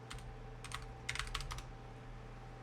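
Quick bursts of keys on a computer keyboard as a search is typed, a few short clusters of clicks over a steady low hum from a computer setup, with no talking.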